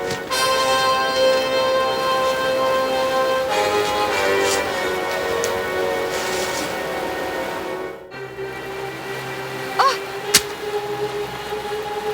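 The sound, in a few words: heavy rain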